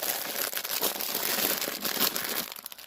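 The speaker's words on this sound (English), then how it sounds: "Crinkling." Plastic packaging of a cross stitch kit crinkles close to the microphone in continuous dense rustling bursts that trail off toward the end, no speech.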